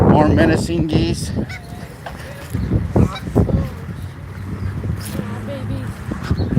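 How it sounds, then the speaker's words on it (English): Geese honk in short bursts at close range beside a lake, several calls overlapping, while people talk nearby and there is outdoor background noise. "More menacing geese."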